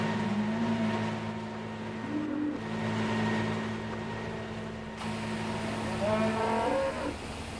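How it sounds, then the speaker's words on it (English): Cattle mooing in Farming Simulator 15 on an Oklahoma farm, several long drawn-out moos over a steady engine-like drone, moderately close. "Yes, cows, I hear you."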